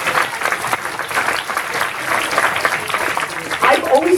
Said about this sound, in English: we talked about rounds of applause